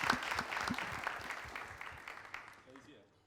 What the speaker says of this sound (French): Merci de faire beaucoup d'applaudissements.